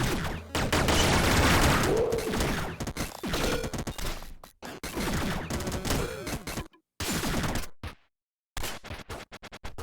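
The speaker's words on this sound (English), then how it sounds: "Machine gun." A machine gun fires in the retro video game Downwell as rapid, crunchy bursts of gunfire mixed with dense game effects, which cut out briefly and then return in short stuttering volleys.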